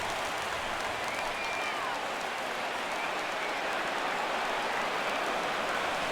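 In the MLB The Show 17 baseball video game, a stadium crowd cheers and claps loudly and continuously on a full count between the Miami Marlins and Philadelphia, a dense steady roar with broadcast commentary faintly under it.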